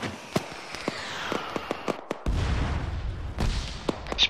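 A frag grenade thrown through a building window in the military game Arma 3: sharp distant gunfire cracks first, then a heavy low blast rumbles and lingers, followed by more scattered shots.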